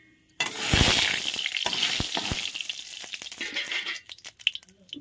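Spices tempering in hot oil in a home kitchen, a loud sudden sizzle and spluttering that settles into steady crackling frying with a few sharp pops, no talking.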